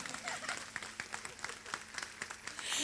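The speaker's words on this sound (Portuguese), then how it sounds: "Palmas pra ela" A church congregation applauds during a service, with dense, fairly quiet clapping running steadily under a speaking voice throughout.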